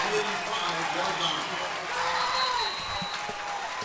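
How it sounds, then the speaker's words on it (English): Football crowd on the Kentucky State University side of a college game against Miles College, a steady wash of cheering and applause that holds for several seconds at moderate distance, with no clear single voice on top. "we are seeing some noise coming from the Kentucky State University side of the field, and it's not the bands, it's the crowd"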